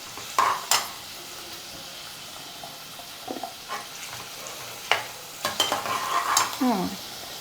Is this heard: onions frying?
yes